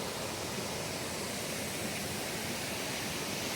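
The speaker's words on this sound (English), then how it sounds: "It's an absolutely stunning waterfall." High Shoals Falls near Hiawassee, Georgia, a steady, even rush of falling water heard at a moderate distance, unbroken and alone, with no voices.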